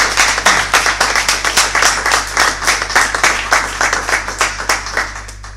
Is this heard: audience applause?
yes